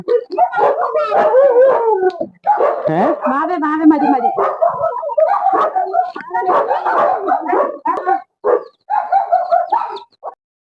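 Several dogs howl and bark together in a loud, continuous chorus that breaks off briefly near the end.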